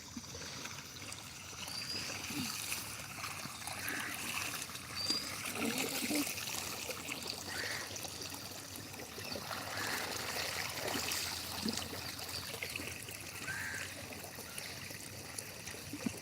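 Irrigation water flowing steadily through a field channel on a farm after the sluice is opened, a continuous low trickle and gurgle with occasional faint splashes, fairly quiet and close.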